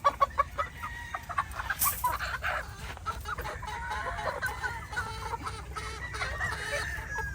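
Yellow-legged chickens cluck in a busy flock, with a few sharp, loud calls up front giving way to a continuous chorus of overlapping clucks and chatter nearby.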